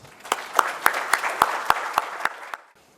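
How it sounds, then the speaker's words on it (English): A conference audience applauds as a speaker is welcomed onstage, a steady wash of clapping with sharper, regularly spaced claps standing out in an even beat, moderately loud, before it fades away. "please join me in welcoming Ravi to the stage with a huge round of applause"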